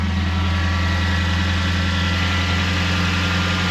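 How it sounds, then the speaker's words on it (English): A Suzuki Swift Sport engine idles steadily at close range, a loud continuous low hum with a constant, even drone and no voices. "Whilst it's running, I'm just going to check, make sure that filter's not leaking."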